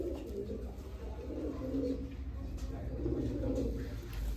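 Royal Teddy pigeons cooing softly in a low, continuous murmur, with a voice talking over the birds throughout.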